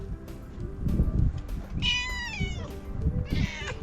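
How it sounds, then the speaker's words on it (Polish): Several cats meow outdoors, with two clear drawn-out meows close by and rustling and handling noise around them. "Spytamy się kotów, jak tutaj się czują."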